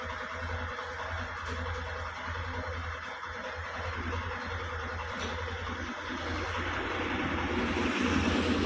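A Bajaj Platina motorcycle engine runs just after an oil change, a steady close idle hum that grows a little louder toward the end, with no talk over it.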